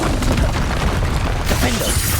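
The Glacius ice spell bursting in Hogwarts Legacy makes a loud crunching, shattering boom with crackling debris, and a voice speaks over it.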